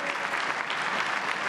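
Sustained applause fills the Chilean Congress chamber, a dense, even clatter of many hands clapping, loud and steady with no voices standing out.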